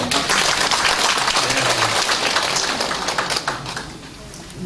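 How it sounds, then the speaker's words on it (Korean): Crowd at a Jinju family rally marking the 3.1 Movement centennial bursting into loud applause for ninety-year-old attendees, a dense, crackling burst of many hands that thins out near the end. "올해 더 건강하시라고 우리 박수 한번 좀 보내주세요"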